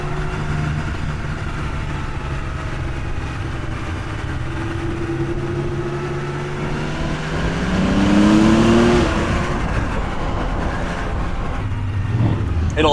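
Air-cooled Porsche 911 G-body flat-six driving through narrow twisty roads, a steady engine drone that rises in pitch and loudness, then drops briefly as the gearbox shifts from second to third, with faint talk over it.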